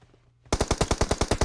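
Rapid automatic gunfire in a PUBG squad fight against superbots, a sudden loud burst of about ten evenly spaced shots after a brief near-silent lead-in.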